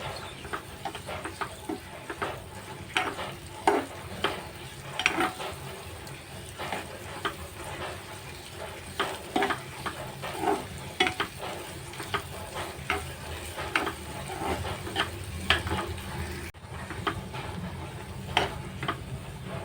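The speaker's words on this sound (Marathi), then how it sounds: "मके घालूया. ते त्यामध्ये छान परतून घेऊया." Corn kernels are being sautéed in a pan for a Maharashtrian corn chaat, with a soft continuous sizzle under repeated clicks and scrapes of a spoon stirring at an uneven rhythm.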